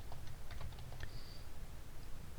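Light clicks of typing on a computer keyboard, a short quick string of soft keystrokes, close but quiet, with a low hum underneath and no voice.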